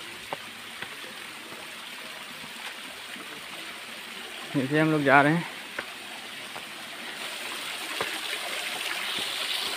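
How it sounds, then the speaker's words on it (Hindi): Steady broadband rush of water pouring over rocks at Baiju Baba, Sonbhadra, fills the whole clip, with someone speaking briefly over it midway. "देखिए यहाँ का ये पानी गिरता है, इतना हमेशा यहाँ से गिरता रहता है पानी"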